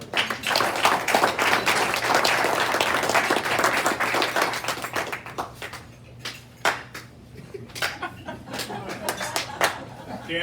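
An audience at a meeting breaks into loud applause that fades into scattered clapping and a few chuckles, heard from within the room.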